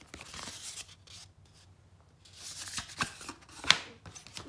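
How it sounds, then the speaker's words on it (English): Leather is cut out for a knife sheath with quiet, close scraping and snipping strokes in irregular bursts, faint overall, with one sharper click near the end. "I'm fixing to commit myself to cutting this out"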